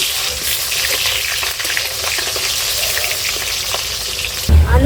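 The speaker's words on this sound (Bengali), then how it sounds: "এবার আমি ভেজে নেবো।" Salted, turmeric-coated potatoes frying in mustard oil, a steady broadband sizzle running throughout, close and fairly loud, with a heavier low thump near the end.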